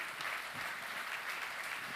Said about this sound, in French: On peut les applaudir par la même occasion.